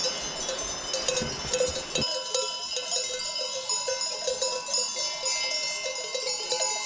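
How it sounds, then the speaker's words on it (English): Numerous sheep bells clank and jingle together in a steady, uneven chorus, as a flock moves around the Carpathian hills at moderate distance. "We're just following the sound of the sheep bells."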